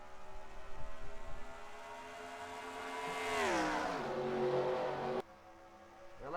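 A pack of NASCAR-style stock cars in a racing game accelerate at Atlanta on a restart, engines revving and rising in pitch as they sweep past, loud and droning, then cut abruptly.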